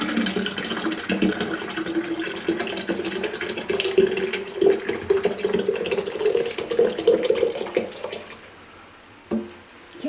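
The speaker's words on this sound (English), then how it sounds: "So we're going to pour it into this." Thick grape mixture pours and glugs steadily into a glass jar for several seconds, wet and close, then stops, followed by a brief clink.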